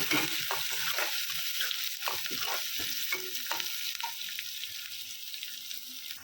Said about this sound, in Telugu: 1/4 స్పూను పసుపు వేసుకుని ఇప్పుడు వేగనిద్దాము